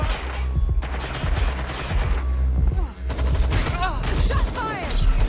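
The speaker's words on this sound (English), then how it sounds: "Shots fired!" Dense, continuous gunfire from the Watch Dogs Legion video game rattles on in rapid volleys from start to finish, loud and close, with brief voice fragments mixed in.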